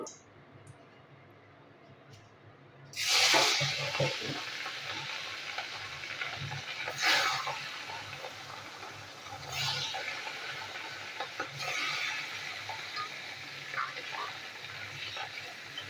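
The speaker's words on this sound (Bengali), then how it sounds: "তেলের মধ্যে আমি একটা করে মাছ ছেড়ে দেবো ফ্রাই করার জন্য" Quiet background, then a sudden loud sizzle as fish drops into hot mustard oil, continuing as a steady crackling hiss with occasional surges.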